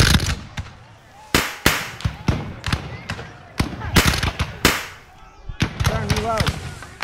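Musket volleys crack out at a Battle of Gettysburg reenactment: a series of sharp, loud reports, some single and some in ragged clusters, with shouted commands and voices between them.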